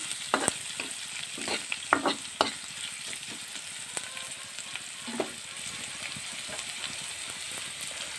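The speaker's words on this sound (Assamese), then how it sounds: "এয়া মই পিঁয়াজখিনি অকণ লৰাই পেলাই ৰঙচুৱা হোৱালৈকে ভাজিম।" Onions sizzle steadily in a hot pan while a utensil scrapes and stirs at irregular intervals, close and alone with no talking.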